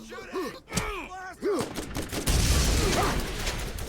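Borderlands video game combat: groaning, character-like vocal sounds give way to a loud, sustained burst of gunfire and a barrel explosion that fills the rest of the moment.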